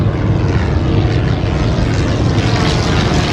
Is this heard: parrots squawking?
no